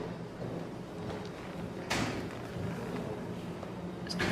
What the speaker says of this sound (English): I was gonna say, hear the gate or something.